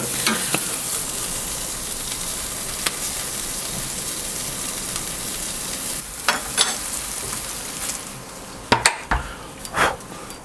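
Burgers sizzle on a barbecue grill, a steady close crackle and hiss broken by scattered sharp pops and a few clinks of a utensil toward the end, with no talking.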